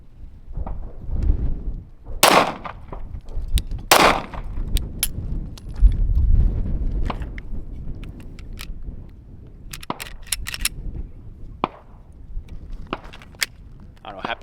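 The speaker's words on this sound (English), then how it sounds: "we're gonna get a close-up of how the recoil is on the Glock 43X with the stock guide rod, and how the muzzle flip is as well" A Glock 43X pistol fitted with a stock guide rod fires full metal jacket rounds outdoors, giving a handful of sharp, separate reports spaced irregularly among clicks and handling noise.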